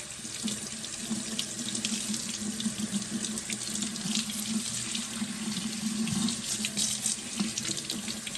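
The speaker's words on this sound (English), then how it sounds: "Again, I'm using colder water." Cold water runs steadily from a sink tap over a lace top wig as it is rinsed, a continuous close splashing stream with no talk.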